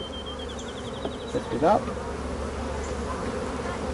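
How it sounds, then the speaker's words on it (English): Honey bees from an opened hive buzz in a dense, continuous drone close by, with a person speaking briefly over the humming swarm. "That's a lot of bees."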